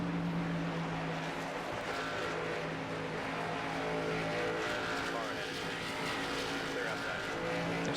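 Race cars in NASCAR 25 hold a steady, droning engine roar at a constant mid level, layered as several cars circle the track, with no break in the drone.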